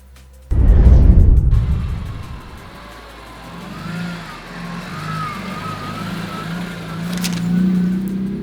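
A BMW E46 M3, lightened to 100 kg less than a CSL, drives on a road; a loud close engine burst opens, then a steady engine and tyre drone continues with no talk.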